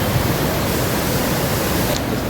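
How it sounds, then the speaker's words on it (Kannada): Nandini river flowing past the Kateel Durga Parameshwari temple grounds in Dakshina Kannada, a steady, close, full rushing wash of water that stays even and continuous throughout, with no voices. "ನಂದಿನಿ ನದಿ ಹರಿತಾ ಇದೆ."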